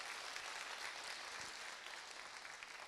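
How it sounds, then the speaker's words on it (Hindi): Thunderous audience applause fills a hall at a Safe Shop direct selling network marketing gathering, a dense, steady wash of many clapping hands that stays loud and unbroken throughout. "अपने गड़गड़ाती हुई इस करतल ध्वनि से जो मेरा सम्मान बढ़ाया"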